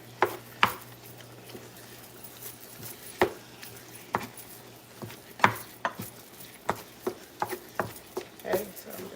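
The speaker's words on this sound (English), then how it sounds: "Okay, so I'm just chopping it up." Food is chopped on a board during meal prep, with a steady run of sharp knife taps at uneven intervals, close and clear over a low steady hum.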